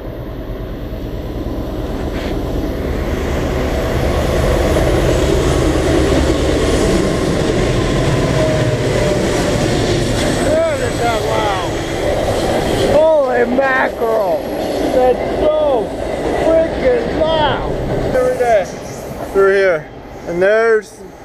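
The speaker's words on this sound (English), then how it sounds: "Here it comes." A freight train covered in graffiti rumbles loudly past close by, a heavy continuous roar of rolling wheels and rattling cars that thins toward the end with metallic squeals.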